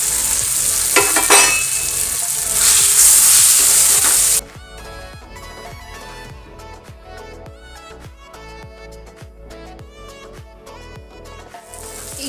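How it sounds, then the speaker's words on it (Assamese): Dried fish frying in a pan, a loud steady sizzle for the first few seconds that then drops to a quieter crackle with faint stirring scrapes, no voices. "তাৰপাছত মই ইয়াত দি দিম শুকান মাছখিনি অকণমান মই পিচি লৈছোঁ।"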